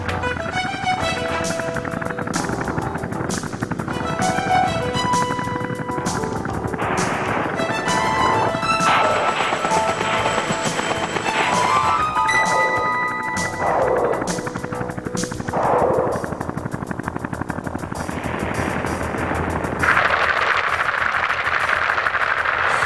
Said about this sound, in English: the Cobra races ahead of the troop carrying copters and prepares the landing zone, pounding it with a barrage of rockets,